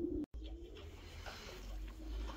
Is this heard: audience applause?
no